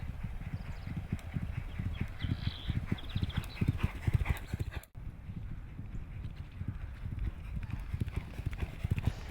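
Horse hooves clip-clop at a racehorse stable in a steady walking rhythm, fairly close, with someone talking over them throughout.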